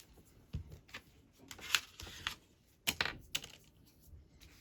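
Scissors cut randomly through glossy magazine paper for a collage, producing a quiet series of irregular crisp snips and rustles, close by.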